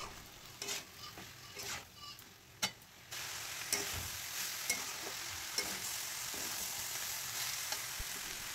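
A spatula stirs chopped banana stem with moong dal and water in a wok, giving scattered scrapes and knocks over a soft sizzle that grows louder and denser midway.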